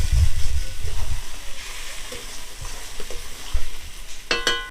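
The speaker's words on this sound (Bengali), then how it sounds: "এবার তেলের মধ্যে কচু বাটাটা দিয়ে দেবো।" Ground taro paste frying in hot oil in a pan, a steady sizzling hiss with scraping and stirring clatter throughout, loud and close, with a short burst of sharper crackling near the end.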